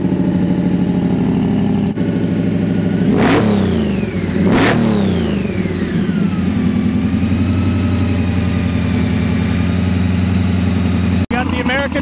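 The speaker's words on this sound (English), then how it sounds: "he brought out the charger. That is loud." A Dodge Charger muscle car idles loudly at a charity toy drive meet, then revs hard twice in quick succession, engine pitch climbing and falling back to a rumbling idle as a person talks over it.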